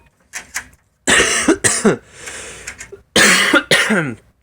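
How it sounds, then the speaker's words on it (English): Several harsh coughs come in quick bursts, close and loud, with short silent gaps between them. "Excuse my coughing"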